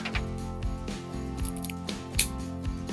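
A coffee-infused cigar being cut with a cutter, a few short close snips and clicks over quiet room tone.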